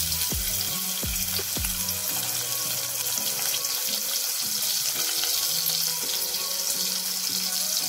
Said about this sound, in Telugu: Oil heat अय्याक उल्लिपायलनु वेसुकोवाली।